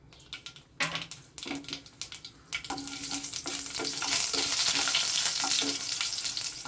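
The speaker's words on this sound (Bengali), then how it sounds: "এখানে আমি একটা শুকনো লঙ্কা দিয়ে দিচ্ছি ফোড়নে, আর দিয়ে দিচ্ছি কিছুটা হাফ চা চামচ কালো সর্ষে।" A dried red chilli and black mustard seeds crackle and spit in hot oil as a tempering for Malabar paneer, with sharp irregular pops that build into a dense, steady sizzle.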